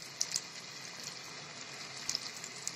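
Potato pieces fry in hot oil with a faint, steady hiss, broken by a few sharp crackles and pops near the start and end.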